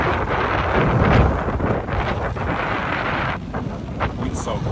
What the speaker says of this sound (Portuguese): muito vento, olha isso